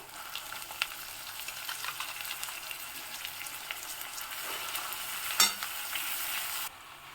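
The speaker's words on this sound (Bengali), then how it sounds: "সব মোচাটাকে আমি কড়াইয়ের মধ্যে দিয়ে নিয়েছি এবং কষানো মশলার সাথে খুব ভালোভাবে মিশিয়ে নেব।" Boiled banana flower sizzles and fries with spices in a wok, a soft steady crackle with a louder scrape of stirring near the end, close and fairly quiet with no talking.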